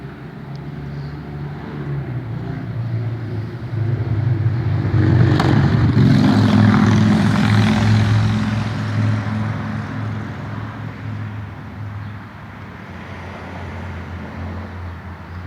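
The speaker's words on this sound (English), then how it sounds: "I've purposely left the traffic sounds in because I've learned to drown them out" Road traffic passes continuously through an otherwise built-up area, a steady low rumble of vehicles that swells as one passes closer around the middle, then eases back to a constant hum.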